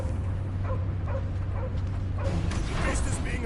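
Cosmo the dog barks and yips in short bursts in the Guardians of the Galaxy video game, the calls rising over a dense bed of game music, effects and character speech.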